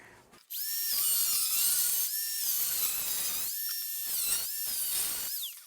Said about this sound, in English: But we'll use the angle grinder.